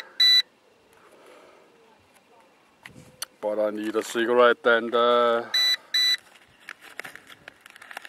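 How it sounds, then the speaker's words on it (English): A drone radio transmitter for a JJRC H16 Tarantula X6 quadcopter beeps in short sharp bursts outdoors, a few separated beeps around someone speaking briefly about wanting a cigarette. "This transmitter is beeping."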